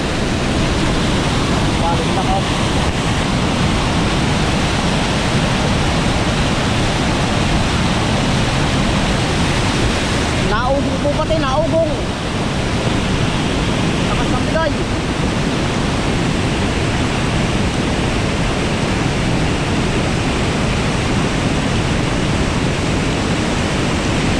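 Floodwater rushes in a loud, steady roar past a bridge railing in a strong flood, a continuous wash of water noise that never lets up, with a voice briefly heard partway through.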